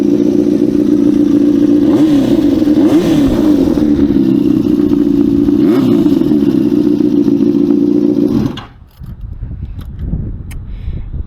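A Yamaha FZ6 motorcycle with an aftermarket exhaust idles loudly with a raspy exhaust note, revving up in a few quick blips before cutting back sharply near the end.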